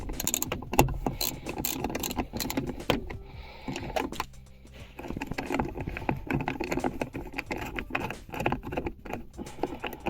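Metal clicks, scrapes and ratcheting from a bolt being undone while adjusting a loose handbrake on a Toyota Yaris NCP, a busy close-up clatter of tool and fastener sounds running throughout with no talking.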